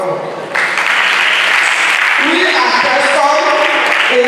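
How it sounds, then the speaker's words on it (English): Audience applause fills a pensioners' welfare forum in Lagos State, a loud, sustained crowd clapping lasting about four seconds with voices mixed in. "Let's now clap for them."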